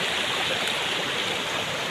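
A Kajarad stream flows in a dense, even rush of water, close and constant with no breaks and no voices.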